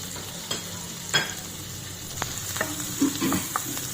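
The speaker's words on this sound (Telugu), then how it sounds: "చూడండి, ఇవి వేసి మంచిగా వేయించుకుందాం" Finely cut garlic, ginger, green chillies and a little onion frying in oil, a quiet, steady sizzle with scattered scrapes and taps of a spoon stirring the pan.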